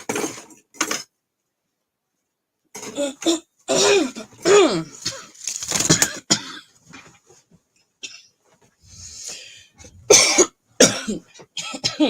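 A woman coughs and clears her throat in several short, sharp bursts separated by silences, close to the microphone, with faint clinks of jewelry between them.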